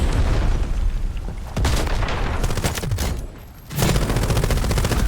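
Rapid rifle fire in the shooter video game Delta Force Hawk Ops, in dense, loud bursts that pause briefly midway before resuming.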